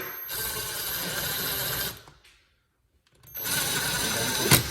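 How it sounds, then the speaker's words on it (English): An impact driver whirs steadily for about two seconds, stops, then a short silence before it runs again, loud and close, during a kitchen faucet installation. "This is an impact driver."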